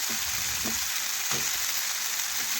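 Potatoes and carrots sauté with spices in a pan for a vegetarian soybean dish, giving a steady close sizzle with a few soft stirring scrapes and no talking.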